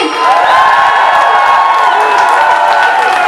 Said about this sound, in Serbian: Molim vas, jedan veliki aplauz s moje leve strane, Ivan Mirković Bambi!